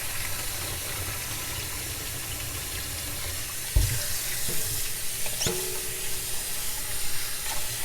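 Tap water runs steadily into a sink as a grouper fish head is rinsed for a Jamaican curry, with a brief clunk partway through and the flow growing louder and splashier afterward.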